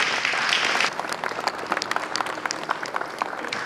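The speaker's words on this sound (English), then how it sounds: "A round of applause, please" Audience at an award ceremony breaks into applause, a dense wash of many hands clapping that stays steady and fairly loud throughout with no voices.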